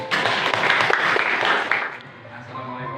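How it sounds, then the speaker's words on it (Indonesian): An audience at a school presentation claps briefly, a dense burst of applause that fades out after about two seconds. "Tepuk tangan dong"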